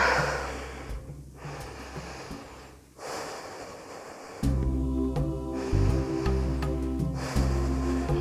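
Slow, steady breaths during a yoga session, soft inhales and exhales with pauses between, over a low continuous background hum and music-like drone.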